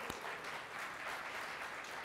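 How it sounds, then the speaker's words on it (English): A room of conference attendees applauds community health workers with a soft, even patter of clapping that holds steady and fairly quiet for about two seconds. "Can we give them a round of applause?"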